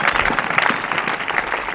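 A church congregation at a sermon claps together, a dense, close burst of applause that holds steady and loud for under two seconds.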